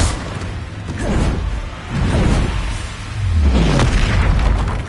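Confringo blasting spell from Hogwarts Legacy erupts in successive loud booming blasts with whooshing swells, close and heavy, amid steady game combat noise and no talk.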